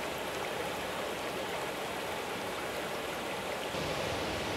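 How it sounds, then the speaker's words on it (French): River water rushing over rocks in a steady broadband wash, constant and fairly close, with no voices. "La rivière coule par-dessus les rochers."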